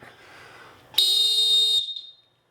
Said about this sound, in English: you give a nice, long, hard whistle to let everybody know we're starting the match